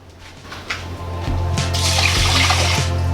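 Water being poured onto a cup of rice in a cooking pot for kimbap: a steady liquid rush that grows louder and fuller about a second in, then holds close and continuous to the end.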